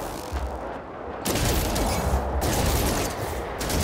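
A weapon in No Man's Sky fires in rapid bursts, a dense crackling fusillade that stops briefly, then resumes loud and close, with no talking.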